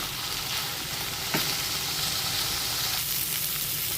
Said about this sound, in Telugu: ఇదిగోండి ఇట్లా గోరుచిక్కుడుకాయ వేగుతూ ఉంది కదా, వేగిపోయింది.